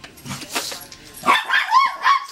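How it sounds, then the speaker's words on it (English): A dog barking excitedly indoors, a handful of sharp, yelping barks in quick succession following some muffled shuffling, close and loud. "There's my dog going crazy."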